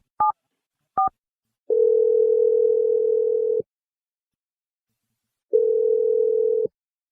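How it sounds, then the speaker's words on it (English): Two short touch-tone beeps as a phone number is dialed, then two long, steady ringback tones separated by a silent gap, clear and alone on the line. "I'm dialing her number right now."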